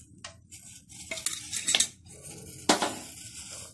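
Hot pan with half a spoon of oil added, then stirred with a metal spoon: irregular clinks and scrapes against the pan, close and fairly quiet, with a few sharper knocks and a faint sizzle underneath.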